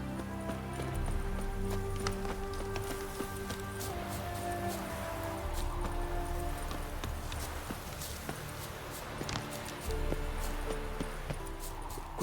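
Geralt's horse Roach in The Witcher 3 gallops with steady clip-clopping hoofbeats over ground, running continuously with brief footstep-like shuffles and faint rustling around it.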